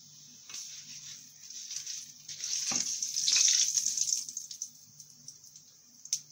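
A bay leaf dropped into hot oil already holding cumin and asafoetida gives a faint, fine sizzling hiss that swells through the middle and then settles, with a few soft pops. No talking.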